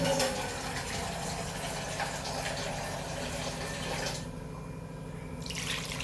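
Water pours steadily into soaking poha (flattened rice), a continuous close splashing rush that thins out near the end.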